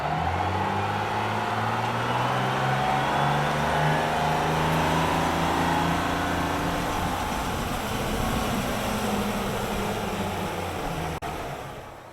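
A bus drives along with a steady, loud engine drone and rising and falling gear tones, continuous and close, with no talking.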